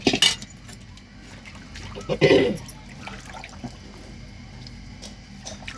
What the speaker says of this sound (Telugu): ఈ నీళ్ళు కూడా పోసుకునేద్దాము